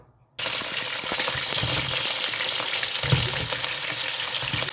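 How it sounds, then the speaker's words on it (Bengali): Vegetables drop into hot oil in a wok, and an abrupt loud sizzle erupts after a brief silence, then holds as a dense, crackling spatter with faint stirring knocks. "কড়াইটা গরম হয়ে গেছে তেল দিয়ে দেই সবজিটা আগে ভেজে নেব"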